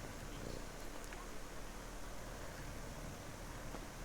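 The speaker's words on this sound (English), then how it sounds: "you can hear Psycho Kitty purring" A soft, continuous purr rumbles low and steady, quiet and close, blending into a faint hiss of background noise.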